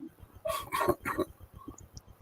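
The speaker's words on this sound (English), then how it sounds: "There must be a squirrel or a bird on the deck. My dog's barking." A pet dog on a home deck barks and yips in a rapid burst of several sharp, fairly faint barks with a whimpering edge, with steady background hum beneath.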